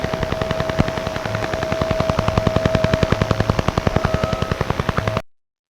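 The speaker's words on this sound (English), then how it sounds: "This is the sound of DUGA." Soviet DUGA over-the-horizon radar signal, the Russian woodpecker, received on shortwave: a rapid, steady train of sharp tapping pulses at about ten per second over radio hiss, loud and continuous with no talk.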